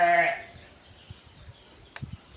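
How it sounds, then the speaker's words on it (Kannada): A Nari Suvarna sheep lets out one short, close bleat that breaks off quickly, followed by a quiet pen with faint rustling and a few soft knocks. "ಅವು 3 ಮರಿ ಆ ಕುರಿ ಅಳಿಸ್ತಾ ಇದೆಯಲ್ಲ ಅದ್ರವು"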